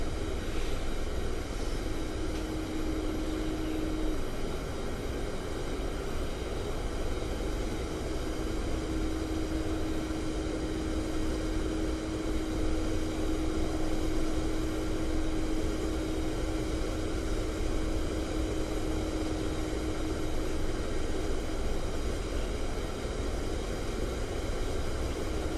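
Helicopter in the DCS flight simulator game, a continuous steady engine and rotor drone with a faint sustained whine, unchanging and alone for the whole stretch, with no voices.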